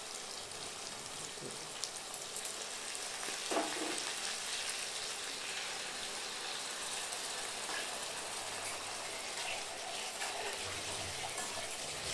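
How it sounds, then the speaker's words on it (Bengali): Ground spice paste fries in a wok, producing a constant soft crackling sizzle like light rain, steady and fairly faint, with a small clatter partway through. "এবার মশলাটা যে আমরা পিষেছিলাম ওইটা দিয়ে দেব, দিয়ে এটাকে ভালো করে ভেজে নেব"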